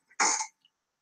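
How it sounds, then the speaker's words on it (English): A single short, harsh cough bursts out close and loud, preceded by a faint breath and followed by silence. "Is that weird? Is that real? Cough."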